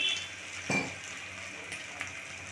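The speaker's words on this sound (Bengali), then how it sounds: "এই যে আমি জল দিয়ে গুলে নিচ্ছি।" Turmeric, chilli and cumin spice mix being stirred into water for a mutton curry, a soft swirling wash with one clear clink of a spoon against the bowl, quiet and close.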